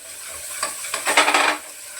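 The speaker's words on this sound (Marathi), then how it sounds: "कांदा टमाटा चांगला परतलाय थोडीशी अद्रक लसूण पेस्ट घालते" Onion and tomato sautéing with a spoonful of ginger-garlic paste in a pan, a steady sizzle with a burst of louder stirring and scraping in the middle, close and alone.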